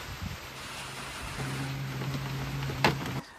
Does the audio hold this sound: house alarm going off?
no